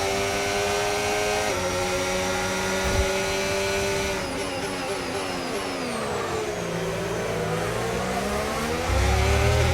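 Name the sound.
Ferrari F1 cars racing in F1 25 video game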